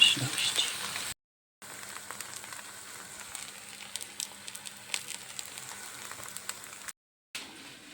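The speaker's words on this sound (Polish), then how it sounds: "Placki się smażą" Grated potato pancakes fry in a pan of hot oil, a soft, steady rain-like crackle and spatter close by, broken by two short silent gaps.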